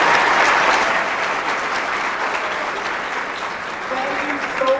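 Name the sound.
audience applause for the high school chorus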